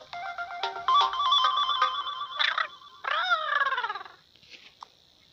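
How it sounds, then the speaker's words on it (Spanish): A phone ringtone from the Toca World video game plays as a bright electronic melody of quick repeated tones, loud and clear for about four seconds, then fades to a few faint blips. "me llaman del celular"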